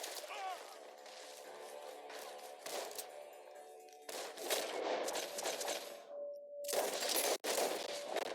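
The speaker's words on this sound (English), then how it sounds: "Gunshots are coming from that barn" Rapid bursts of gunfire crackle in volleys from a barn in Red Dead Redemption 2, with sharp shots and brief pauses, mixed with clattering impacts and game-like ambience.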